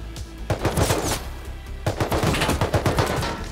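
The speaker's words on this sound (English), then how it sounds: "I need to tap the LMG." Rapid bursts of LMG machine-gun fire in the survival game Rust, close and loud, two strings of quick shots separated by a short pause.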